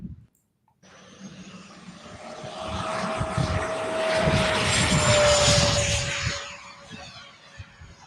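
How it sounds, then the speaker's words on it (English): A radio-controlled model airplane rolls out and takes off, its motor building from a low start to a steady high whine that swells, peaks around mid-flight and eases as it climbs away, with no voices. "That was a strong rollout and takeoff."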